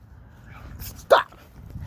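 A single short dog bark, near and fairly loud, rising briefly out of a quiet room with faint background noise.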